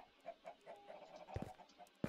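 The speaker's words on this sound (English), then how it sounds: "I hate that stupid camping chicken." A Minecraft chicken gives soft, short clucks in a quiet game scene, several small notes spaced across two seconds with a couple of louder bumps near the end.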